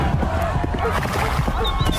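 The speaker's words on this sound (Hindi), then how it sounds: "तभी वहां पर कलुआ डाकू अपने साथियों के साथ घोड़े पर बैठकर आ गया" Horses arrive carrying a band of bandits, their hooves clip-clopping steadily under a dense layer of background music and effects.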